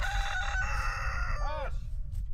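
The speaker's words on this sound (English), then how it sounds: "Rooster!" A rooster crows outdoors on a farm, one drawn-out crow that rises and falls, fairly loud, over steady low rumbling background noise.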